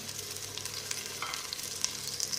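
Steady sizzling of onions frying in a hot pan, a continuous crackly hiss with small pops, no voices.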